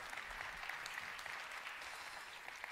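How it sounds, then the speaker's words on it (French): An audience at a conference session applauds a speaker, a soft, even patter of many hands held at a steady level throughout, heard from some distance with no talking. "Si vous voulez applaudir, allez-y."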